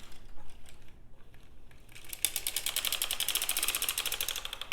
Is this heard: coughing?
no